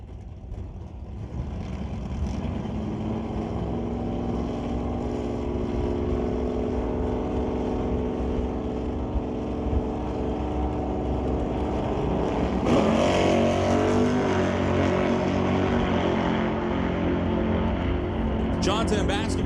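Drag race between a 5-liter Mustang and a Malibu Wagon with a Johnson's Customs exhaust at the West Coast Outlaw Shootout, Mission Raceway Park: a continuous loud engine roar that swells around the midpoint, with an announcer talking over it.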